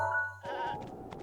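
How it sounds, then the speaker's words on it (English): Goats in The Legend of Zelda: Breath of the Wild let out a short bleat, a clear nasal cry over a held musical tone in the game. "There's some goats over here,"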